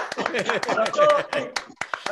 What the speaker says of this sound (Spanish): los aplausos para nuestro participante